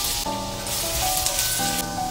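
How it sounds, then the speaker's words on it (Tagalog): Garlic sautés in oil in a pan, a close, bright sizzle that surges in short bursts as it is stirred, with faint tonal ringing beneath. "Gigisa na tayo dito ng bawang"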